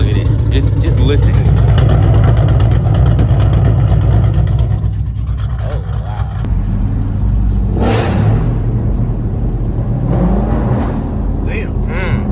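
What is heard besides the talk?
twin turbo Corvette C8 engine idling and revving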